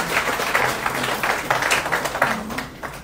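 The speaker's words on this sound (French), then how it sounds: "Applaudissements pour elle, s'il vous plaît." Applause from an audience at a book signing event, a steady patter of many hands clapping at moderate volume for about three seconds, with faint voices mixed in beneath.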